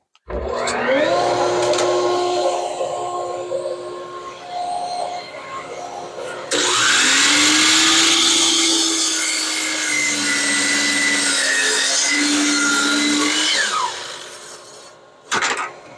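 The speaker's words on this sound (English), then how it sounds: "we're gonna bring this over to the table saw, get everything kind of adjusted here" A table saw with dust collection running cuts a wooden cutting board: a motor whine spins up, then a loud, dense cutting roar as the wood feeds through the blade, easing back as the saw winds down at the end.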